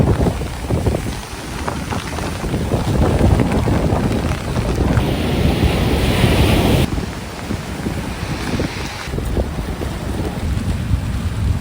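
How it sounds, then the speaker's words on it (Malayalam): Rough, storm-tossed sea heard from a fishing boat out for stingray, with strong wind buffeting the microphone and steady wash of waves amid rain, a dense continuous roar throughout. "നല്ല മഴയും കാറ്റും എല്ലാം കൂടെ കണ്ടില്ലേ, കടലൊക്കെ ഇളകി മറിഞ്ഞ് കിടക്കുകയാണ്"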